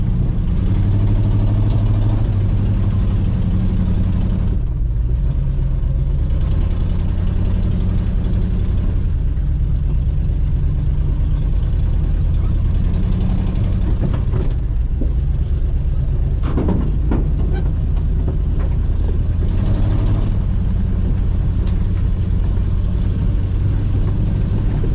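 A tow truck engine droning loud and steady while driving a trail, with a constant low rumble, brief dips and a few rattles over the run.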